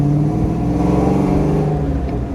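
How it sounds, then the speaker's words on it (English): A supercharged 1993 Ford Fox Body Mustang with a Flowmaster exhaust idles with a deep, steady rumble and throaty exhaust burble, close and continuous with slight variations in pitch. "it sounds cool. It has a Flowmaster exhaust."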